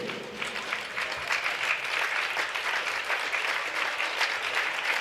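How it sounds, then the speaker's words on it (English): Sustained applause from a crowd in a high school gym during parents' night introductions at a basketball game, steady and dense clapping throughout with no pauses. "Big round of applause."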